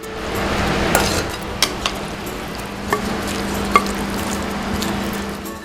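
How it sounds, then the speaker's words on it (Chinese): Meat stir-fried over high heat makes a continuous, fairly loud sizzle, punctuated by a handful of sharp clinks and scrapes of a utensil against the pan, with no voices. "肉爆香，大火热炒。"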